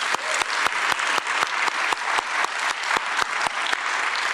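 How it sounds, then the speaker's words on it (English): A crowd claps steadily and evenly throughout, a dense continuous round of applause at moderate loudness. "let's give Elizabeth one more round of applause."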